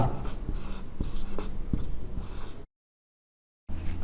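Pen or chalk writing out a math solution by hand, a series of scratchy strokes with sharp taps, close and fairly loud, then a full second of silence before the scratching resumes.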